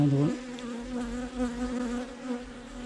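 Honeybees buzz at an open hive while a queen is being marked, a close, steady droning hum that holds without a break, with no talk.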